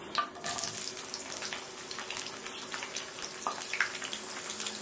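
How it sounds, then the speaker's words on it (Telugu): Onions fry in hot oil in a pan while making ragi sangati, a soft, steady sizzle with faint crackles, fairly quiet and close. "ఇప్పుడు మన ఆయిల్ వేడైపోయిందండి. ఆనియన్స్ వేసుకుందాం."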